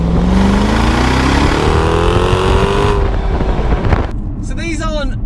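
A Jaguar XKR's engine pulls hard under acceleration, a loud rising drone heard from inside the car that cuts off abruptly near the end.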